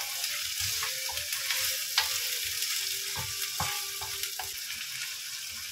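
Chicken frying in a pan for laing, a Filipino taro-leaf dish, with a continuous close sizzle and repeated spatula stirring scrapes and clinks.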